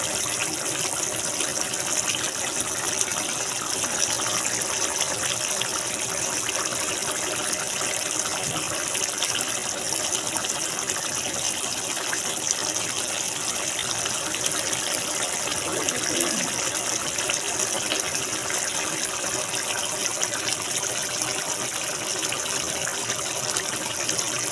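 Chicken and potato curry boils in a pot, giving a steady, loud bubbling hiss that continues unbroken throughout, with no voices.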